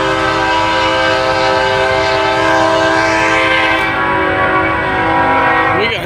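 Loud, close horn of a westbound CSX freight locomotive sounding a rhythmic shave-and-a-haircut pattern at a street grade crossing, sustained chord blasts over rumbling rail noise, ending abruptly.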